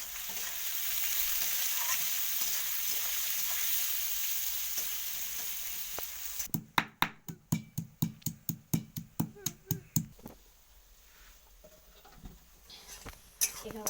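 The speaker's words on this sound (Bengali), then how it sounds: "পেঁয়াজটা লাল লাল করে ভাজা হয়ে গেছে" Onions frying in oil in a home kitchen pan until reddish, a steady close sizzle giving way to a run of quick rhythmic scraping stirs, then quieter sizzling.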